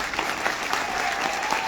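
A crowd at a Hindi motivational business gathering applauds loudly and continuously, a dense, even clatter of many hands heard briefly and up close.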